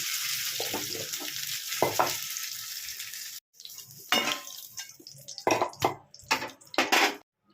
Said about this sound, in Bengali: এইভাবে আমি ভেজে নিচ্ছি